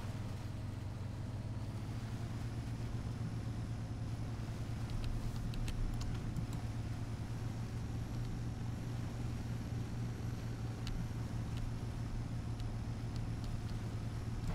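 Off-road truck rolling through mud near a river in the Spin Tires tech demo, a steady low engine drone with churning tires, constant and fairly quiet with faint ticks scattered over it.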